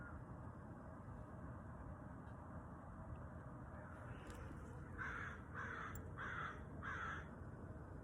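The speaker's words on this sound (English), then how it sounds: "You hear the crow?" A crow caws four times in an even rhythm, faint and distant over steady outdoor background noise, with nobody talking.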